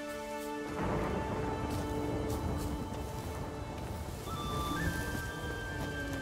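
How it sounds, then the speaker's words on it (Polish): Steady rain pours down close by in The Witcher 3 video game, a dense hiss that continues throughout, with thin sustained tones drifting over it. "Znowu pada."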